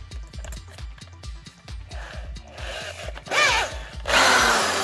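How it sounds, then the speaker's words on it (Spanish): An electric drill bores the marked holes for a homemade Yagi-Uda TV antenna, starting with rapid ticking pulses and then rising into louder, continuous whining bursts of drilling close by. "Y vamos a perforar todos los puntos que antes había marcado."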